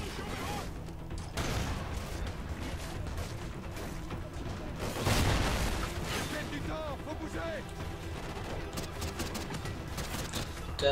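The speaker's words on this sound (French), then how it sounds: "On va mettre une petite grenade là" A grenade explodes in the Call of Duty Ghosts solo campaign: one heavy, broad boom near the middle stands out from a busy backdrop of scattered gunfire and battle noise.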